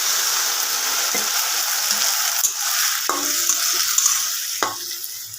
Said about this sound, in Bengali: এখন কুলটাকে একটু গ্যাস শুধু হালকা একটু ভাজা ভাজা করে নেবো